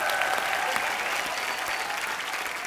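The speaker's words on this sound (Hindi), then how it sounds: "Can we hear for Satyanarayan जी? जोरदार तालियां।" Loud, sustained applause from a television comedy show studio audience for a Paralympic medal winner, a thick wall of clapping that stays strong throughout with a faint tonal hum underneath.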